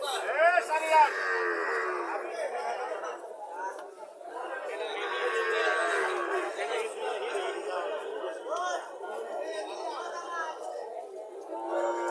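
Brahman cattle low repeatedly at a village livestock market in Cumilla, their moos rising over a constant murmur of chattering people close by.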